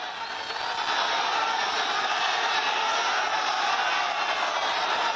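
A dense roadside crowd at Amit Shah's road show in Bolpur, a steady, loud wash of voices, cheers and shouting that holds at an even level throughout.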